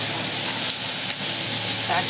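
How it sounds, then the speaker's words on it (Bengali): Bitter gourd frying in a pan gives a steady, dense sizzle that fills the short moment, close and fairly loud, with a voice faintly in the background. "উচ্ছেটা ভালো করে ভাজতে হবে"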